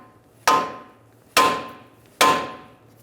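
A hammer whacks the outer tie rod end of a 2000-2007 Ford Taurus: three sharp, close metallic blows at an even pace, each ringing briefly before fading, with no talking.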